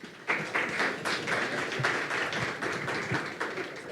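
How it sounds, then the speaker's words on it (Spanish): Audience applause at a panel event on public-sector digital transformation, a steady wash of many hands clapping that starts abruptly and holds evenly throughout. "Recíbanlos todos con un fuerte aplauso"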